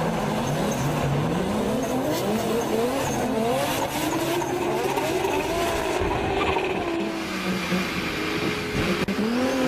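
At a French Drift Championship battle run, a drift car's engine wails and shifts pitch as it revs hard, with tyres squealing and skidding throughout, loud and continuous from a short distance.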